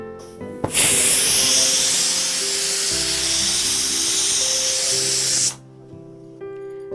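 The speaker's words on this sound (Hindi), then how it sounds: "देखिए कुकर की स्टीम पूरी तरीके से निकल चुकी है।" Pressure cooker cooking mutton on a gas stove, releasing a loud, steady rush of hissing steam for about five seconds before it cuts off, with background music underneath.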